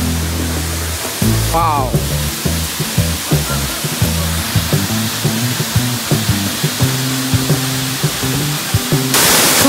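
A waterfall rushes loud and steady at close range, a broad roar of falling water filling the scene throughout, while a person briefly exclaims and someone speaks quietly beneath it.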